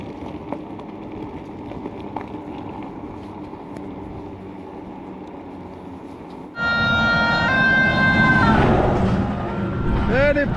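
A fire engine siren starts suddenly and wails loudly as the truck passes a rider on an electric scooter outdoors, over steady road and wind noise.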